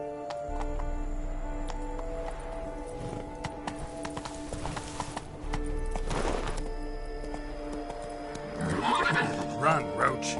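Horse hooves clip-clop at a gallop in The Witcher 3 on PlayStation 4 Pro, with whinnies toward the end, over game music and a man urging the horse on.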